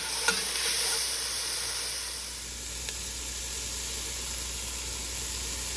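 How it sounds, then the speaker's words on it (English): Mushrooms sautéing in a pan for a beef stew give a steady, soft sizzle and hiss throughout, with a couple of faint clicks of stirring and no voices. "Now we're gonna be sauteing the mushrooms for about 5 minutes"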